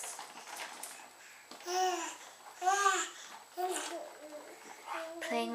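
A five-and-a-half-month-old baby plays with a new guttural G- or K-like sound made with the mouth closed, producing several short voiced bursts and babbles close to the microphone.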